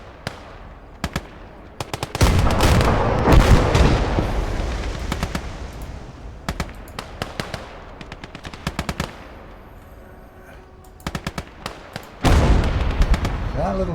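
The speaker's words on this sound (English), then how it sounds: "That little machine gun there is being outstanding." Machine gun fire in the Motherland battle video game, delivered in sharp rapid bursts and scattered single shots, with a long sustained barrage early on and another near the end, loud and close.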